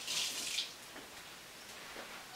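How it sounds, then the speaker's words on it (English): Beets rinsed under running water: a close, hissing splash of tap flow for about half a second, then quieter trickling and faint drips. "go ahead and rinse that off a little bit"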